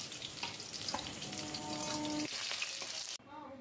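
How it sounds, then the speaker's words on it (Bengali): Pieces of snakehead fish fry in oil while being turned, giving a steady, quiet crackling sizzle that cuts off abruptly and returns fainter near the end. "মাছগুলো উল্টিয়ে পাল্টিয়ে ভালো করে ভেজে নিলাম।"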